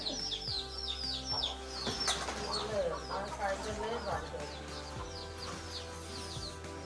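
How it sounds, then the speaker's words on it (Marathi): Chickens crowding around dried fish scraps in a Konkan village yard, clucking and squawking in short overlapping bursts while a person speaks over them at moderate distance. "सुकटीचं भुसं खावायला कोंबड्यांची गर्दी आणि भांडणं पण."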